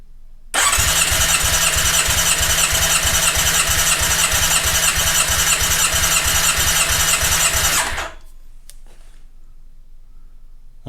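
A Yamaha XJ600S motorcycle engine cranks steadily on the starter for a compression test, throttle held wide open, giving a loud, even, rapid chugging pulse with a whining starter for about seven seconds before cutting off abruptly into near silence.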